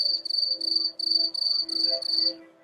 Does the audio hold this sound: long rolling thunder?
no